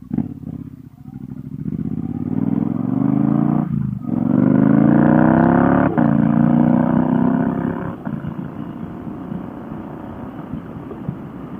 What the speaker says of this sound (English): You don't really have to come off the throttle with the quick shifter or speed shifter.